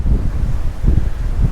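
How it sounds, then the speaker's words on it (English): Strong wind blowing on the beach at Santa Ponsa, Mallorca, heavy low buffeting rumble gusting against the microphone in repeated surges, loud and close with no other clear sounds. "the wind is really blowing"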